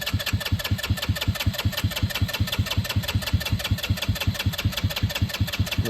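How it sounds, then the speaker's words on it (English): A 150cc go-kart engine catches and settles into a steady, rapid idle, its even firing pulses running loud and close without pause and no voices over it. "Man, it might fire up without the gas."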